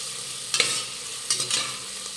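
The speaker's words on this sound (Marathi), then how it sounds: "2 हिरव्या मिरच्या, अर्धा इंच आलं आणि 5 ते 6 लसूण पाकळ्याचे हे वाटण आहे, तर हे मिनिटभरासाठी परतून घेऊयात" Green chilli, ginger and garlic paste sautéing in a pan, a steady broad sizzle broken by two bursts of scraping stirs, close and alone with no voices.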